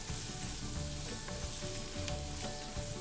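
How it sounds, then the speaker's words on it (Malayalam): Ginger garlic paste sautés in a pan with chopped green chili, a continuous close sizzle with scraping stirs breaking through it, and no one speaking. "ഇഞ്ചി വെളുത്തുള്ളി പേസ്റ്റ്, നന്നായിട്ടൊന്ന് വഴറ്റിയെടുക്കണം"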